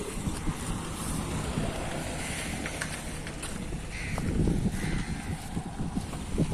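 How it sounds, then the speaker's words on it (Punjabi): A steady, loud rush of the fast-flowing, flooded Beas River, with gusts of wind buffeting the microphone throughout. "ਬਹੁਤ ਤੇਜ਼ ਪਾਣੀ ਦਾ ਵਹਾਅ"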